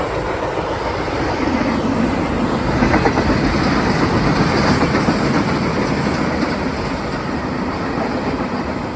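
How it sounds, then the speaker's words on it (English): A train rolls past on the tracks, close and loud: a continuous heavy rumble with rhythmic clickety-clack from the wheels that swells in the middle and holds steady for the whole stretch. "watch the train go by"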